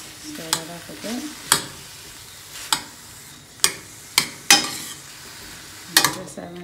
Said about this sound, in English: I'm just using my butter spoon to just stir that up a bit.